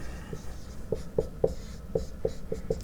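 A pen scratches and taps across a writing surface while a chemistry expression is jotted down, short quick strokes in a loose rhythm, close and fairly quiet.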